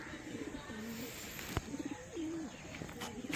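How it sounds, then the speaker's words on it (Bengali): Band-tailed pigeons kept at a home loft coo softly in a few repeated low phrases, with a sharp tap midway and faint background noise. "বন্দলেজের পায়রা আছে"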